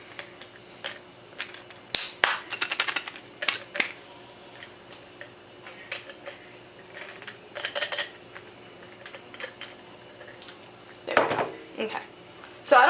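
Whole nutmeg being worked out of a jar in a home kitchen while making berry crumble: scattered small clicks, taps and rattles of hard spice against glass, in irregular bursts with quiet gaps, close and fairly faint, a brief louder clatter near the end.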